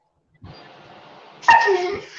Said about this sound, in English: My dog is barking at me.